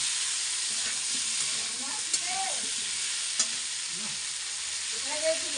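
Potatoes fry with ginger paste and tomato in a pan, a constant close sizzle broken by a few light utensil taps and scraping stirs, with faint voice traces underneath.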